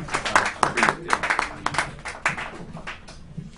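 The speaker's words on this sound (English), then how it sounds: "clap like crazy as we welcome to the mic Brad Blue Bathgate" Audience at a comedy show claps to welcome a comedian to the mic, a brisk, scattered round of applause, fairly close and moderately loud, thinning out toward the end.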